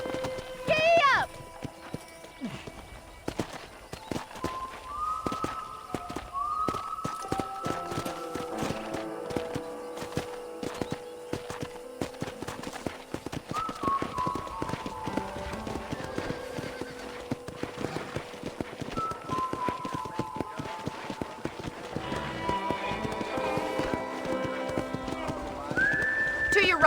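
Horse hooves clip-clop steadily in a Red Dead Redemption ride around a frontier property, with whinnies, musical score and spoken dialogue layered over the continuous trotting.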